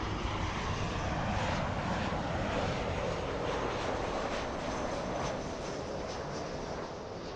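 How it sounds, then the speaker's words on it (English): Boeing 747-8 freighter arriving at LAX from Anchorage, a broad, steady jet roar that holds at even loudness and eases slightly at the end. "747-8 freighter make a rare north arrival."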